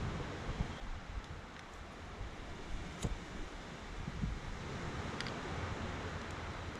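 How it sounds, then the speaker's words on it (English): Steady wind rushes on a lonely island campsite, a broad continuous roar with gusts rising and falling, plus a few faint rustles and small knocks close by. "A bit windier in here today as well."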